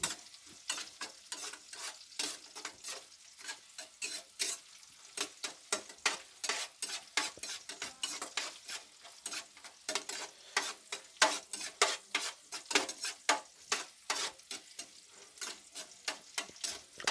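Onions and green chillies frying in a pan for sprouts pulao, with a steady soft sizzle under rapid, continuous clicking and scraping of a spoon stirring throughout.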